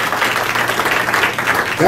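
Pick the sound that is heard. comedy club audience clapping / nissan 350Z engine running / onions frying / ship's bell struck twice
comedy club audience clapping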